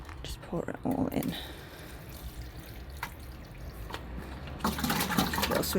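Nematode mixture poured from a watering can into plant pots of freshly planted Heuchera cuttings to treat soil against vine weevil, a splashing, trickling flow of liquid with gurgles and drips, starting and stopping, with a person talking in between.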